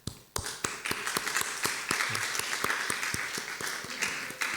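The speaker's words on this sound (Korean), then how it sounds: "우리 박수로 환영하겠습니다." A church congregation in Sendai claps together to welcome a member who has stood up after a prayer. The applause is a steady, close, crowded patter with sharp individual claps running throughout, and no one speaks over it.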